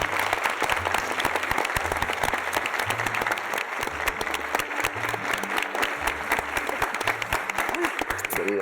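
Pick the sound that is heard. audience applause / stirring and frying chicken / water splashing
audience applause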